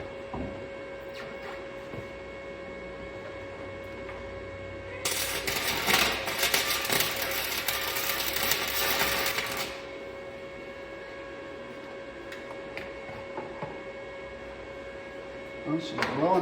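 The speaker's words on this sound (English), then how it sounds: "let's see if we can get this thing somewhat welded on there" Welding a part onto a truck in a cramped spot, a burst of crackling, sizzling arc noise lasting about five seconds over a steady background hum, quiet ticks before and after.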